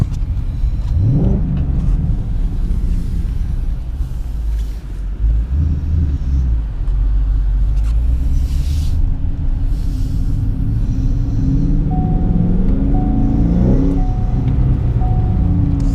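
A Ford Mustang's engine rumbles deep and loud while driving, a steady low growl with a couple of rising revs as it accelerates.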